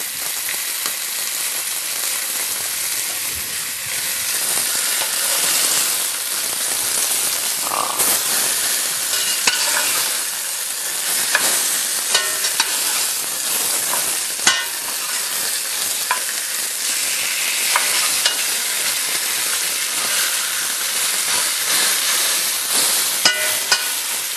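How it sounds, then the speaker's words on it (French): White wine reducing in a hot pan with osso bucco, giving a steady loud sizzle and hiss of frying liquid with occasional sharper crackles and pops throughout. "on en profitera pour le faire réduire un petit peu le vin blanc, hein, laisser s'échapper toutes les vapeurs"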